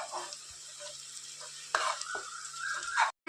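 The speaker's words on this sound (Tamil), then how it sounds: "நல்லா வதக்கிக்கலாம்." Chopped onions sauté with salt in a hot pan, a steady sizzle with soft scraping as they are stirred, and a brighter hiss rising toward the end.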